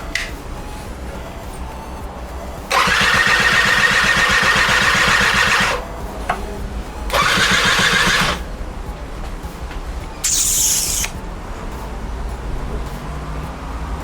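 Passola moped engine cranking without catching, in two loud bursts of churning noise separated by a pause, followed by a short higher-pitched whir near the end.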